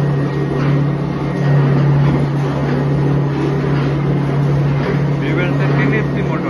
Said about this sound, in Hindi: वीवेल से 10 HP मोटर से चलता है